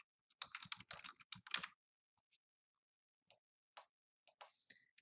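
Quick clusters of keystrokes on a computer keyboard, close and crisp, a fast run of typing followed by a few scattered single taps against silence.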